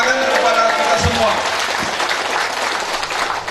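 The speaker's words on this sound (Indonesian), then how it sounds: "Tepuk tangan kepada kita semua." Audience at a district event in Marancar, Tapanuli Selatan applauding, a steady, fairly loud spread of clapping with a speaking voice over the start.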